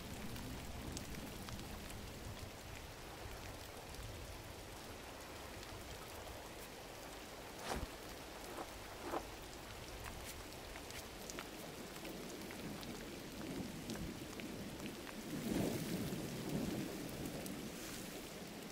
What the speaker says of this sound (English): Oh, now it's raining.